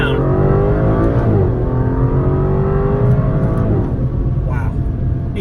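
An Aston Martin DB11 AMR engine revs loudly and close as the driver downshifts, the pitch climbing and then dropping with each gear change in a strong, continuous roar.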